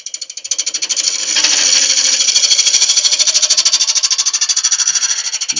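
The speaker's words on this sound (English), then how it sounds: "using the Simon Hope hollowing tool. Amazing little device, tiny little cutter," A Simon Hope hollowing tool with a tiny cutter hollows out a yew vase, giving a loud, rapid, ratchet-like chatter that pulses continuously and evenly throughout.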